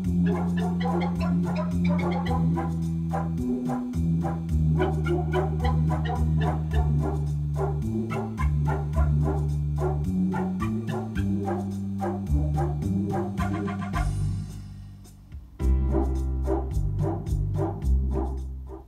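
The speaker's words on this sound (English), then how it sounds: "I'm going to hear the dogs in the Latin style introduction" Synthesized dog barks woven into the Latin-style intro of a Yamaha Clavinova digital piano, repeated yips and woofs riding on rhythmic keyboard chords and bass, loud and continuous.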